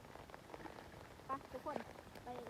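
Rain falling outdoors, a faint, steady patter with scattered drops, heard under quiet background talk.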